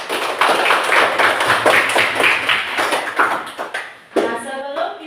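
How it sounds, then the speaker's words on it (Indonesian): A group of students claps for themselves in a classroom, producing a dense burst of hand claps for about four seconds that fades, followed by a brief louder clap and light tapping. "Berikan tepuk tangan untuk diri sendiri"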